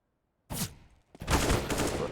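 Bursts of pistol fire in a CS:GO pistol round on Dust2: a loud volley of shots, a short lull, then a denser, sustained exchange of gunfire close by, with no talk over it.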